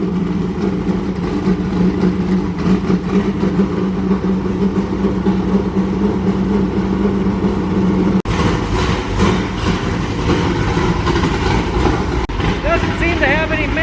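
A car engine that has just had its carburetor worked on runs at a steady low idle, close and continuous for the whole stretch, with someone talking over the rumble.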